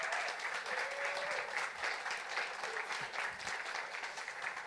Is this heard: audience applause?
yes